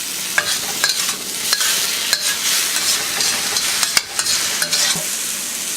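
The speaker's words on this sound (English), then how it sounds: "So just give that a quick stir fry." Pork belly and watermelon rind stir-fry in a hot wok over high heat, giving a loud, close, continuous sizzle broken by repeated scraping and clacking of the stirring utensil against the metal.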